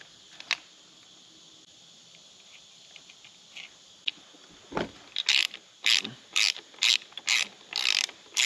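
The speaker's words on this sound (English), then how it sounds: "We're going to have to remove this nut" Ratchet wrench removing a nut on a Mercury 200 EFI outboard powerhead, a few faint clicks and a clunk followed by a close run of rapid, evenly spaced ratcheting bursts.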